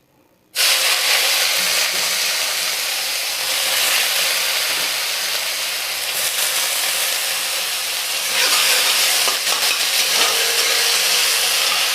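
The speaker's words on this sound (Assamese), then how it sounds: "এতিয়া পিঁয়াজখিনি দি দিছোঁ" Onions frying in a pan on a gas flame, a loud, steady, hissing sizzle that bursts in abruptly and keeps going under occasional stirring, close and without voices.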